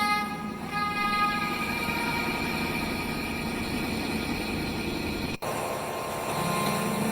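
A train rumbles steadily in a clip played during a church sermon, with a loud continuous rolling drone and sustained tonal hum running the whole time, briefly cut by a sharp dropout near the end.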